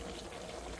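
Boiled water being poured over vegetables in a pot while cooking Pongal, a soft continuous splashing rush of liquid lasting under a second.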